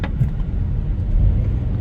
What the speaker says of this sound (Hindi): और हम अपनी गाड़ी लगाएंगे पार्किंग में।